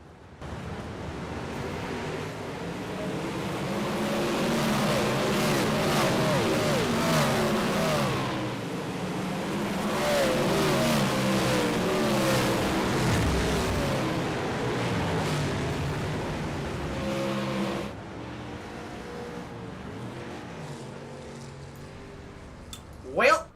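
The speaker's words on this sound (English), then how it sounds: "let you enjoy the sounds of the race cars, or sprint cars in this case." Sprint car engines roaring through a race in the iRacing simulator, with rising and falling revs as cars sweep past in waves, loud and sustained, fading briefly near the end.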